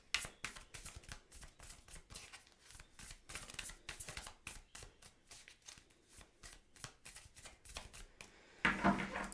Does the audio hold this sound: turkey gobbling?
no